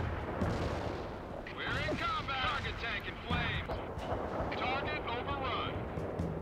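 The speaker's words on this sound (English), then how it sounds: "Delivering a rain of shells at target coordinates" Artillery barrage from the video game World in Conflict shelling tanks, with a rolling series of dull booms and rumbling impacts under overlapping radio-style voices and chatter, steady and dense throughout.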